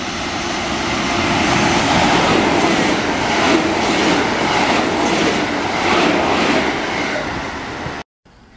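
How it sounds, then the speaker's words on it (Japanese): A train runs through Mikawa-Mitani Station, a small Japanese station, on platform 2 without stopping, a loud sustained rush with rhythmic wheel clatter over rail joints, then an abrupt cut near the end. "まもなく2番線を列車が通過します。"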